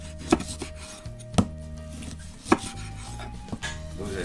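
Beef oxtail pieces cut through on a board for Afghan-style kazan cooking, four distinct chopping blows about a second apart, close and crisp, with faint scraping between them and no voices.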